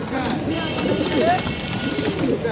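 Pigeons cooing at the Tongi pigeon market, soft repeated coos over a busy crowded background with people talking.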